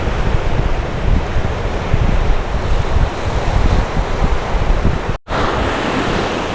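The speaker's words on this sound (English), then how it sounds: "we could see the waves crashing from our balcony" Ocean waves break continuously on a beach in Lombok, a dense loud roar of surf mixed with gusty wind buffeting the microphone, with a brief dropout near the end.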